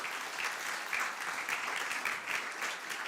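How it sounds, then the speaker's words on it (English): A conference forum audience applauds, a steady even wash of many hands clapping at moderate distance, with no voices over it. "You can give them all a round of applause."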